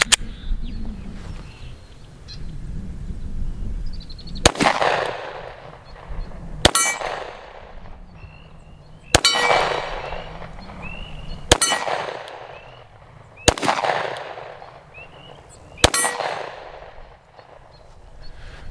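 Glock 45 pistol shots ringing off steel targets at an outdoor range, six sharp loud reports spaced a couple of seconds apart, each followed by a bright metallic clang and decaying ring.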